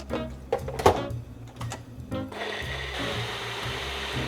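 A blender making a smoothie, a few clunks and rattles before the motor whirs up into a steady, loud, continuous grinding hum.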